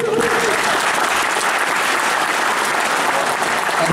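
A crowd at a Project Discovery event applauds with dense, steady clapping that holds at full strength without a break, close and loud throughout.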